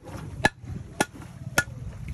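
Three sharp hammer strikes on a conch shell, evenly spaced about half a second apart, close and distinct over a low background.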